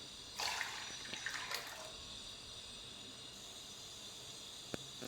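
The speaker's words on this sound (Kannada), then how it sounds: "ಒಂದು ಪಾತ್ರೆಗೆ 2 ಲೋಟ ನೀರು ಹಾಕಿ" Water is poured from a glass into a cooking pot for homemade malt, making a short splashing pour near the start, then quiet with a faint drip near the end.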